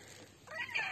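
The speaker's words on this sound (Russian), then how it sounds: "Мне хочется рассказать вот про этого котофея" A rescued street cat meows once indoors, a short, faint, rising cry heard alone against quiet room tone.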